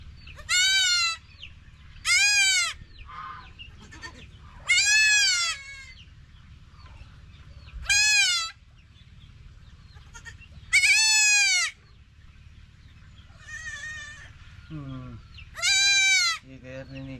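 Goats, a mother with newborn quadruplet kids, bleat repeatedly, loud and close, in long wavering calls with short pauses between them, while a low background hum runs underneath.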